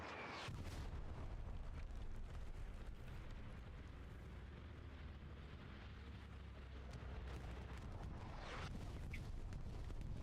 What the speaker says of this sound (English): That is definitely an enemy bombing run.